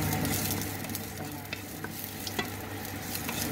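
Steady sizzling of a hot frying pan while sardines and tomatoes are sautéed for lunch, a dense continuous crackle with occasional sharper spits, alone with no talk.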